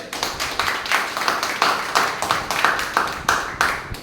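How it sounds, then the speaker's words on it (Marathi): At a birthday celebration, an audience claps in a steady rhythmic pattern, the strikes evenly spaced and fairly close, with no talking over them. "त्यांच्या ह्या व्यक्तिमत्वासाठी एकदा जोरदार टाळ्या होऊ दे."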